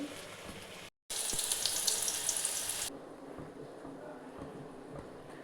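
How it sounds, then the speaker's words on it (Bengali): Boiled potatoes frying in hot oil in a wok, a steady bright hiss that swells loudly after a brief cut, then settles into a softer, continuous sizzle. "এই কড়াতে তেল বসিয়ে দিয়েছি আলুটা আগে ভেজে তুলে নিচ্ছে"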